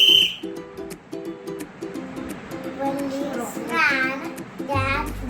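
A voice imitates a police whistle with a few short, shrill warbling blasts, after softer speech-like sounds from children in a school classroom.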